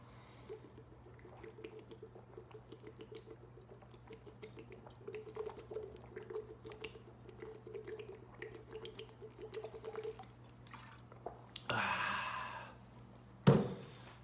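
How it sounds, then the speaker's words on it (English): A person gulps down a glass of water first thing in the morning, with a steady run of soft rhythmic swallows over a low hum, then a loud breathy exhale and a sharp clatter at the end. "we gotta chug some water"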